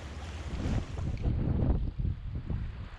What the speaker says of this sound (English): Wind is brutal right now.